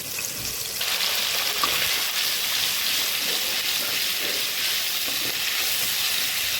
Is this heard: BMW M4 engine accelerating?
no